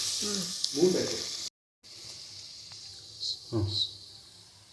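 Crushed ginger, garlic and green chillies fry in a pan with a soft, steady sizzle and occasional stirring, while someone talks over it and a brief silent gap breaks the middle.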